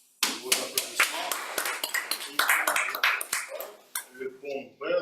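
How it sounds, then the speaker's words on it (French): A small audience at a speech club meeting claps for a speaker. The claps are sparse and distinct rather than a dense roar, and they taper off into a voice starting to speak near the end. "Vos applaudissements."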